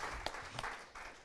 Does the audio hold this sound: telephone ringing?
no